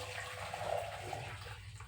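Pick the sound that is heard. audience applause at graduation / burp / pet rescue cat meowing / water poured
water poured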